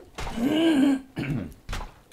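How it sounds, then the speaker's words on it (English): A nearby person clears their throat forcefully: one long rasping rumble, then two shorter ones. "Commentary is by profusely clearing my throat."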